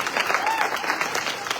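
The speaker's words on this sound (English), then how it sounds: "another round of applause for Julie" A seated audience at a Cocktails & Fishtales talk on microplastics in the Salish Sea breaks into sustained, dense applause, many hands clapping together in a loud, even wash of sound.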